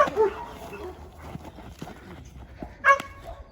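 A single sharp bark from a very small dog on a leash near the end, following quieter rustling and a brief yelp-like sound at the start.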